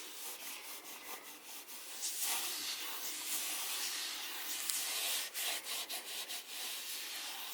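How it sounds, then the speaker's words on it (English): Wood furniture is buffed with homemade lemon oil polish: a continuous soft, hissy rubbing of cloth on wood, close by, turning into quick back-and-forth strokes toward the end. "Just gonna finish buffing this out."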